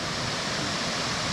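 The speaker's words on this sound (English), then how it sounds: "It's not the wind at all. It's the water." Water rushing down small cascades of a stream along a trail on the way to Laurel Falls, a steady broadband roar that could pass for wind, with no other sounds or talk.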